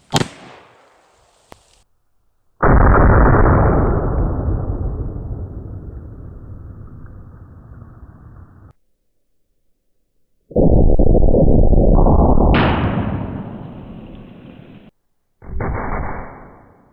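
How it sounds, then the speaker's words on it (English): A .50-70 howdah pistol fires loud, booming blasts, each with a long ringing decay, three separate bursts in all, with quiet gaps between them. "try to shoot it maybe both barrels at once"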